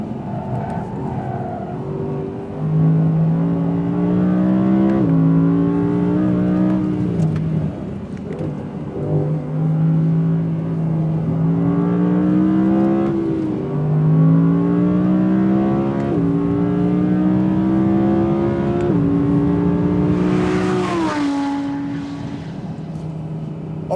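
An Audi R8 V10 Plus laps the Kinnekulle Ring race track, its loud V10 wailing up through the revs, dipping at gear changes and climbing again in repeated surges, heard continuously from onboard with no talking.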